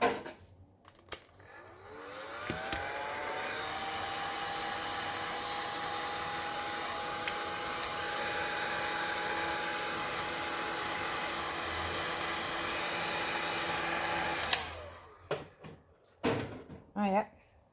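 Heat tool blowing hot air over a resin-filled silicone mold, a steady whooshing blower hum running for about twelve seconds between clicks and handling noises, with a voice speaking before and after.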